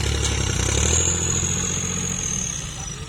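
A Kubota L3608 tractor's diesel engine idles steadily up close with a low, throbbing rumble, fading slightly toward the end.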